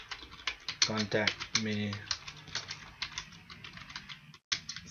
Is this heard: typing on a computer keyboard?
yes